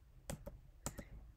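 Keys tapped on a computer keyboard while entering a web address, heard as a few quiet, separate clicks in two brief pairs, near and faint with no talking.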